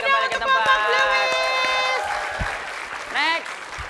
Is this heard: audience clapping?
yes